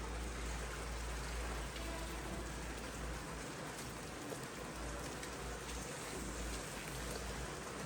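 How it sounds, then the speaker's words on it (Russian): Steady heavy rain pouring down, a dense continuous hiss of drops hitting surfaces with low rumble underneath, no voices. "О, какой дождь."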